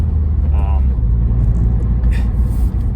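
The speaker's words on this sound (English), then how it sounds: "It just sounds like a track car." A deep, throaty engine rumble from a Subaru WRX with performance parts runs steadily throughout, loud and close, with a brief higher mechanical whine near the start.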